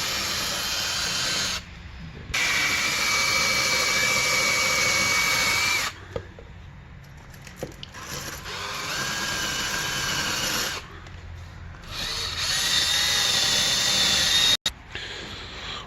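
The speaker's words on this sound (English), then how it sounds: "we're gonna clean them a little bit with a metal brush and a drill" Power drill spinning a metal wire brush to clean the sprocket studs on a 2007 Kawasaki Ninja ZX6R during a chain and sprocket change, whirring in several loud bursts separated by short pauses, with small clicks between runs.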